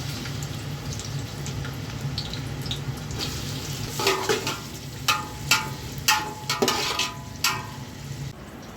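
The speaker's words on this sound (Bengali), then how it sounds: "পেঁয়াজ কুচি দিয়ে দিচ্ছি।" Chopped onion frying in oil in a cooking pot for khichuri: a constant sizzle broken by a regular series of scraping stirs against the pot.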